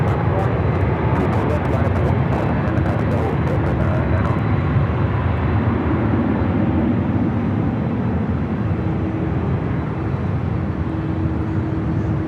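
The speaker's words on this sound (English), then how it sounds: "Also have that Delta 767 at 300ER heading to JFK number 2." A Delta Boeing 767-300ER taxis or runs up at Los Angeles International Airport, a loud, continuous broadband jet roar with low rumble, heard alongside a voice commentary.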